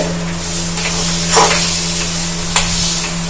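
Mashed green banana for chop being stirred and mixed in a bowl, a steady soft stirring with a few louder scraping strokes against a constant low background hum.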